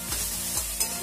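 Chopped capsicum sizzles in hot oil in a pan, a continuous close frying hiss broken by a few brief stirring scrapes, over roughly a second.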